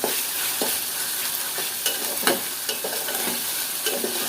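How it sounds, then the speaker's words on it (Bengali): Ginger-garlic paste frying in a hot pan, a constant close sizzle with scattered scraping strokes of a spatula stirring it, no voices. "আদা রসুন বাটাটা দিয়ে দিলাম এটা একটু একটু ভেজে নেব"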